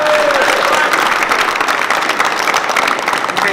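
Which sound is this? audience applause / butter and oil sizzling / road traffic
audience applause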